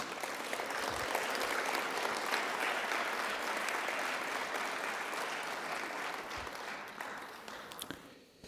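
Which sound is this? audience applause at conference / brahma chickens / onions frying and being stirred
audience applause at conference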